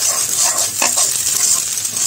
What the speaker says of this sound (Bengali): তারপর দিয়ে দিলাম ডিম দুইটা। এখন ভালোভাবে ডিমটা একটু ভেজে নিব